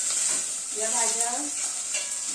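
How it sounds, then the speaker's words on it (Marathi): Mixed vegetables with peas stir-fry over a high gas flame for a restaurant-style veg kolhapuri, a continuous loud hissing sizzle close by, with brief stirring clatter and a faint voice in the background. "गॅस फास्ट करूनच आपल्याला फ्राय करून घ्यायचे, मंद आचेवर नाही करायचे आपल्याला."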